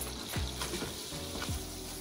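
Flour whisked into melted butter for a roux: a soft, even sizzle with a couple of quick scraping sweeps of the whisk against the pan, fairly quiet and without talk.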